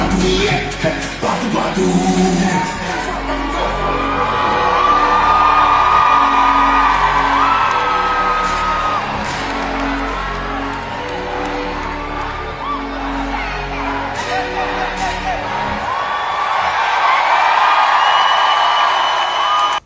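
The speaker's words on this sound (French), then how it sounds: "Vous entendez comment ça crie." A large audience screams, whoops and cheers loudly and continuously during a rapper's live performance at a French awards show with flames on stage, voices yelling over thumping music throughout.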